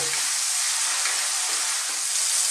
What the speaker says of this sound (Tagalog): hahaluin lang po natin siya ng mga ilang minuto